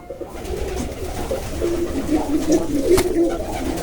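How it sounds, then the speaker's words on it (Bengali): Jalali pigeons in a loft coo in low, repeated throaty calls that swell through the second half, close by, over faint background noise. "নিচে জালালি কবুতর ডিম নিয়ে বসে আছে"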